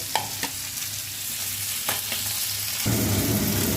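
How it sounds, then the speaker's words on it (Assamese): Fish fries in a pan, a steady close sizzle with a few sharp clinks and stirring scrapes early on, then the frying swells into a louder, busier crackle near the end. "মাছ ফ্ৰাই হৈ আছে"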